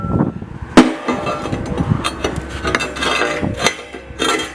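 Metal plates shifted and handled in a trailer fabrication shop, giving a sharp clank near the start and then a run of scraping, knocking metallic clatter at close range with no talk.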